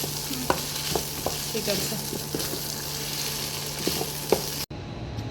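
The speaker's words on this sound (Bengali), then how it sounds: "এখন এখানে ফ্রাইড রাইসের প্রস্তুতি চলছে।" Fried rice stir-fried in a pan for an iftar meal gives a constant sizzle with a few sharp spatula knocks, close by, and a brief spoken phrase near the end.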